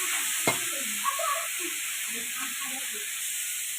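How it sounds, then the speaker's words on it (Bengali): Leafy greens, including water spinach, stir-fry in a pan with a soft continuous sizzle and hiss, a sharp utensil knock near the start and faint muffled voices in the background. "দেখো অনেকটাই ভাজা ভাজা হয়ে গেছে না মা?"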